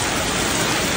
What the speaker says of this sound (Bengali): বৃষ্টিটা থামুক।